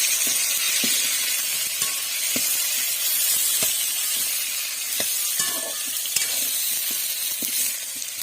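Onion and tomato fry for a mushroom curry with a soft, steady sizzle, broken by regular light clicks and scrapes of stirring.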